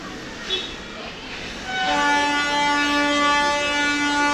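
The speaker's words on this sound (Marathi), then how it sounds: "ट्रेनचा आवाज येत असेल तुम्हाला" A train passes close by, its horn sounding in a loud, sustained, steady blare that swells after a quieter opening and holds to the end.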